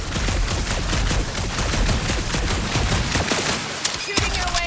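Rapid sustained gunfire from Marvel's Guardians of the Galaxy, dense bursts of shots with game effects rising near the end, loud throughout.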